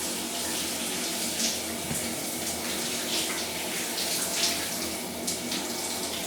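A cold shower runs steadily, a constant loud hiss of spraying water with no break throughout.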